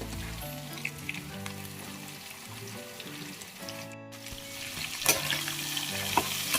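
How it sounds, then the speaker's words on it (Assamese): Pork and cut potato pieces fry in a pan with a steady sizzle, joined by stirring scrapes and clatter of a utensil, close, moderately loud, with a brief thump midway. "এতিয়া মই ইয়াতে কাটি ৰখা আলু পিচ দি দিছোঁ"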